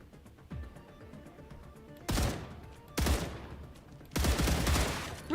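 Three loud bursts of automatic gunfire in the video game StarRupture, each a dense rattling volley lasting about a second, separated by quieter gaps with faint game ambience.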